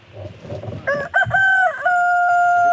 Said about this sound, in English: Chickens have showed up, but they're none of the ones I care about